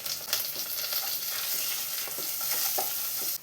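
Onions, garlic and curry leaves fry and sizzle in a pan while being stirred, a dense crackling hiss with light scraping strokes, close and steady throughout, no voices.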